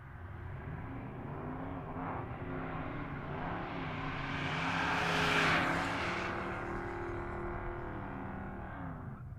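Drag race cars run down the strip at Pueblo Motorsports Park, a sustained engine roar with harmonic drone that swells loudest near the middle as the cars pass close, then fades slightly, with no talk over it.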